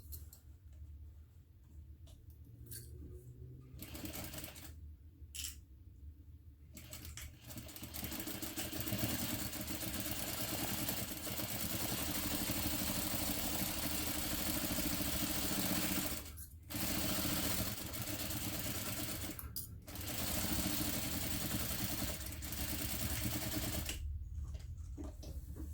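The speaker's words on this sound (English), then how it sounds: "we are going to use a 1/2 inch seam allowance to sew along the top of this" A sewing machine stitches a half inch seam in bursts, with a steady close whir for long stretches broken by brief pauses, and no talking.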